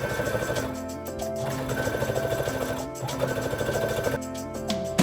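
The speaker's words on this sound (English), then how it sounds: "so we can pin and sew our side seams" A sewing machine stitching the side seams of a Chanel-inspired skirt, running at a fast steady rhythm of needle strokes in several long bursts separated by brief pauses, close and with no talking.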